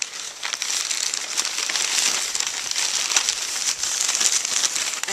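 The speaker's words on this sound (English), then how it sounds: "So, yeah, let's open the package." Gift package being opened, its packaging crinkling and rustling continuously and close up for a few seconds, with no speech over it.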